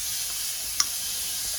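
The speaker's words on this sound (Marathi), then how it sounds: "आता आपण रायता फोडणी घालून घेऊया. ह्याच्यामध्ये तेल टाकलंय" Hot oil for tempering spices for a traditional Konkan ripe mango raita sizzles in a soft, steady hiss throughout, with one brief sharp crackle near the middle.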